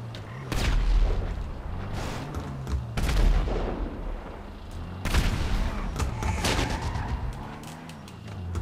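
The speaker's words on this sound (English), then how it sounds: "there's still a tank. Shooting at me" Repeated heavy cannon blasts from a tank in GTA 5 Online, three big booming shots roughly two seconds apart with rumbling gunfire and explosions between them, loud and close.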